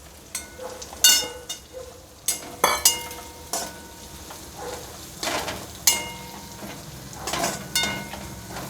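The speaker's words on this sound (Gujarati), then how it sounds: "આ બધું આપણે 2 મિનિટ સુધી સાતળીશું." Onion sautéing in a pan with garlic and green chillies gives a close, steady sizzle, broken by several sharp spatula scrapes and clatters at irregular intervals.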